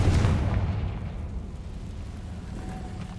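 A Confringo spell explosion in the video game Hogwarts Legacy, a deep booming blast that opens loud and settles into a low rumbling decay over a few seconds, no talking.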